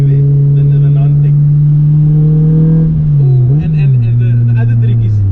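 Honda Civic with a non-VTEC B20 engine revving hard, a loud sustained howl that holds steady, dips briefly and climbs again, while people talk over it.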